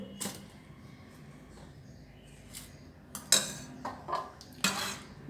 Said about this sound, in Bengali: এবার জলটা দিয়ে দেব যেহেতু জলটা গরম আস্তে আস্তে হাতা দিয়ে নাড়তে হবে